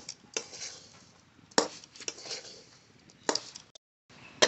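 A spoon scrapes and clinks against a pot while jaggery is mixed into flattened rice, with irregular sharp knocks between softer stirring sounds, close and fairly quiet.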